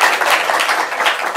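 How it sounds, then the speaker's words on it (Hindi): An audience at a morning religious discourse in Vrindavan applauds to welcome guests. The clapping is dense and continuous, a loud, steady wash of many hands with no single claps standing out. "सब तालियां बजा के स्वागत करें"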